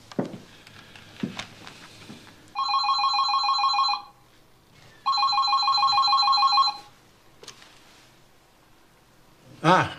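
Telephone ringing indoors, two loud electronic bursts of trilling bell tone separated by a pause, with faint rustling and footsteps around them.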